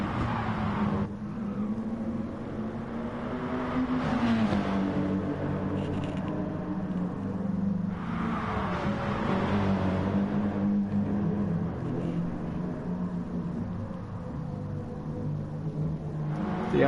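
Audi race car engines in an endurance racing video game, a steady droning roar with rising and falling pitch as the cars accelerate and shift, continuous and fairly loud, with no voices.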